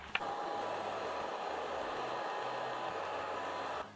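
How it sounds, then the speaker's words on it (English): A steady, loud hair dryer heating vinyl wrap blows continuously at close range, a constant whooshing hum that cuts off abruptly at the end. "what we're going to do with the hairdryer, we're going to sort of heat up the whole area"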